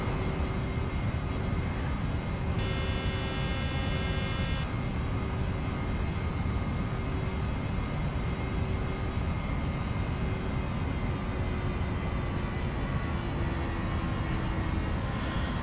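A PMDG 737 in a flight simulator going around on approach: the jet engines hold a steady, loud, broadband roar with a faint whine on top, while a brief warning tone sounds partway through.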